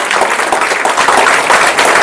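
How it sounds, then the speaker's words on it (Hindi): Audience applauding for the Kosam Trust at a green-environment discussion event in Hazaribagh, steady dense clapping throughout, fairly loud and close with no talk over it. "तो इस बात पे कोसम ट्रस्ट के लिए ताली बजना चाहिए या नहीं?"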